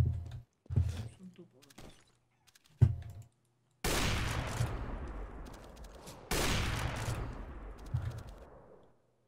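Bursts of gunfire in the video game CS:GO, with several sharp shots and two loud blasts that ring and decay, mixed with keyboard and mouse clicks while a person talks between them.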